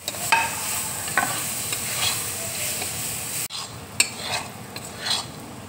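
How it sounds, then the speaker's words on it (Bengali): Chopped onions and gram flour frying in a pan for paneer bhurji, with a steady sizzle broken by scraping stir strokes and light utensil clinks against the metal. "এবার দেখো পেঁয়াজ কুচি আমি দিয়ে দিচ্ছি।"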